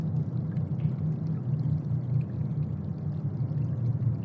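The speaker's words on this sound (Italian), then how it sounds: "In un laghetto si raccoglie l'acqua che sgorga gocciolante dalla montagna." Water seeping from the rock of the San Gottardo mountain falls into a small pond, making a steady, loud, rushing splash that fills the whole stretch with no voices.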